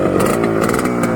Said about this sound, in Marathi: आता तुम्ही इंजिनचा आवाज ऐकून घ्या